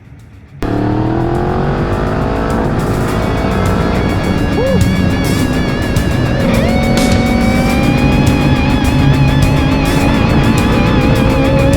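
A 2013 Honda CB1100 motorcycle engine rumbles steadily close by, its exhaust note idling with slight revs rising and settling, loud and continuous throughout.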